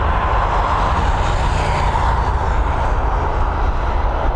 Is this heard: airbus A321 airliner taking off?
yes